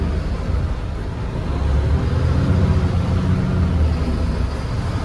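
Road noise pours in through the open cab window of a large truck towing a trailer, a constant low rumble of engine and tires with broad wind hiss, loud and unbroken throughout.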